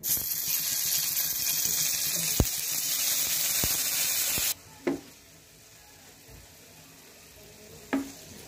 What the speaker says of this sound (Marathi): इथे आपल्याला पनीर थोडंसं हलकसं फ्राय करून घ्यायचं आहे।